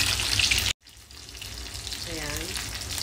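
Leftover fish oil heats in a pan for sautéing before ginger and garlic go in for a fish sarciado, giving a steady sizzling hiss after a brief cut, with faint tonal chirps near the end and no speech.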